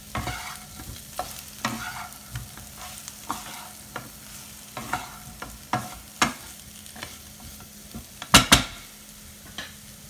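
A spoon stirs potatoes with garam masala and chopped coriander in a hot pan, steady scraping and clinking over a low sizzle, with a couple of sharper metal knocks near the end.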